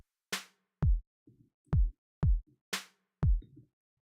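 Kick drum sample in music software: five or six punchy, booming low thumps at an uneven pace, each with a short decay, some led by a sharp click, with faint ticks in between and no voices.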